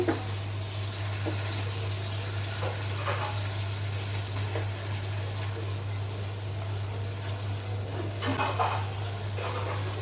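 Chopped onion and green chilies stirred into frying spices for a spicy Bangladeshi prawn curry, a soft steady sizzle with occasional scrapes and clinks of the spoon, over a low constant hum.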